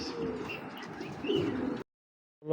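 A BRFC 2016 female racing pigeon coos softly and steadily at close range for nearly two seconds, then falls silent before a brief louder sound at the end.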